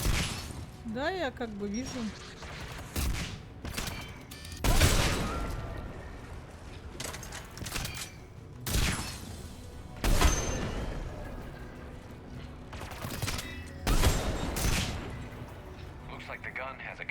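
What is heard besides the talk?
gun turret gunfire in video game Mass Effect 3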